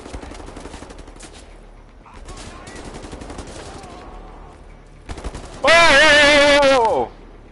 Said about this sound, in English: Oh, I hear gunfires.